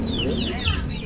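Chickens cluck and murmur close by on a farm, steady and fairly loud, with people talking over them.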